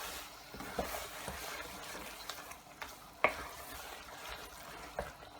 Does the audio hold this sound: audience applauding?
no